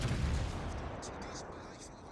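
Heavy naval gunfire from a German Hipper-class cruiser in World of Warships, with deep booming low rumbles at the start that fade under a steady ambient wash and faint higher bursts.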